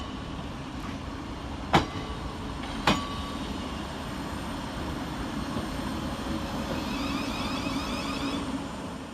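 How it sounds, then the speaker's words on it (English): Southern Railway electric unit 313-220 pulls away from Brighton station on a service to Seaford, a steady low rumble and hum with a couple of sharp clanks near the start, heard at a distance beneath station ambience. "departing in the background is 313-220, working the 1641 Southern Railway service to Seaford"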